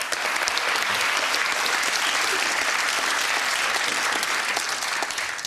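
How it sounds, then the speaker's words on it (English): A studio audience on a 1997 British TV game show bursts into dense, sustained applause, many hands clapping evenly and loudly throughout with no break. "Round of applause, surely."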